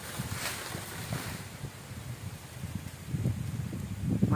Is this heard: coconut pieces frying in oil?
no